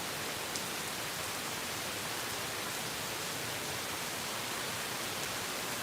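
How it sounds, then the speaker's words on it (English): Steady rain falls straight down with no wind, a dense, even hiss that fills the whole span without pauses, moderately loud and with no talking. "We're getting a nice rain now."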